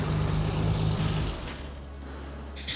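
A 1996 car engine running, a low steady idle hum, loud at first and then easing slightly lower, alone with no voices.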